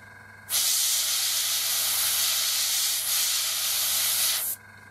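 An airbrush spraying yellow paint onto a 1/72 scale Academy North American Mustang model kit, a steady close hiss of air that starts abruptly, holds for about four seconds with a brief dip partway through, then cuts off.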